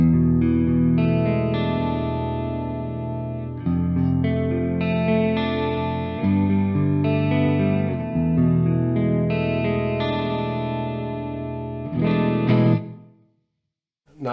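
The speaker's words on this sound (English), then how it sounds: "use the chorus and reverb to get this kind of a lush sound" Guitar played through an Amped ML5 using chorus and reverb for a lush sound, sustained chords ringing out under a shimmering wash, then a final strum that fades to silence.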